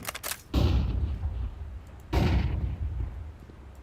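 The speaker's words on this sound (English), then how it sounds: "Deploying flashbang." A flashbang grenade in a shooter video game goes off in a loud close bang, followed by a second similar blast a moment later, each trailing a rumbling decay.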